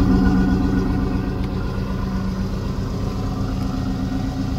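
A 1994 Chevy Suburban with a 454 big block V8 idles steadily, a deep, even rumble holding constant throughout with no talking.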